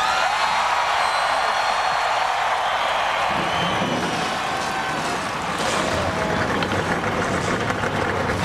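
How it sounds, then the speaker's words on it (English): Field of NASCAR stock car engines firing up at the 2002 NAPA 500, a dense continuous roar of many engines with rough idling rumble that swells partway through, crowd noise mixed in. "Gentlemen, start your engines."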